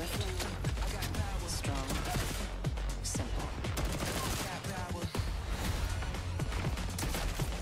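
Rapid video game gunfire crackles in dense volleys, loud and continuous with overlapping shots and impacts throughout, with game sounds layered in.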